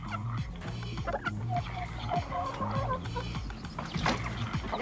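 A flock of 25 champion chooks kept among rocks clucks and murmurs nearby, with overlapping short calls and soft chatter in a continuous barnyard bustle.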